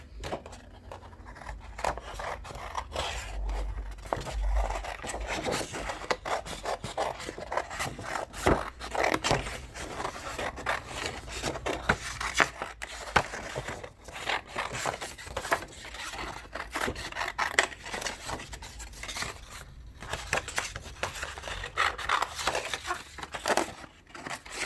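Scissors snip through paper cutting out tree shapes for a mixed media collage, producing a long run of close, crisp cuts with rustling and crinkling of the sheet between strokes and no talking.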